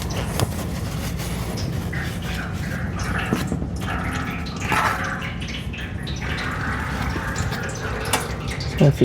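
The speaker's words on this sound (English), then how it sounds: "Once you undo it, more oil will drain." Oil drains from a Can-Am Maverick X3 into a 15-gallon metal drain pan, a steady close trickling pour with faint drips throughout.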